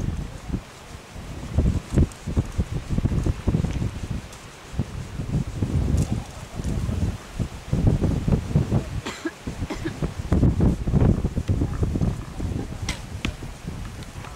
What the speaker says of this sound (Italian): Tanto il vento c'è